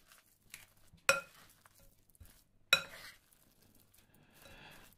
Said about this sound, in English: Just make sure you mix everything well here.